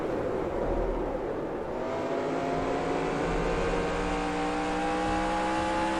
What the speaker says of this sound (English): You can see we're right on that rev limiter in clean air going through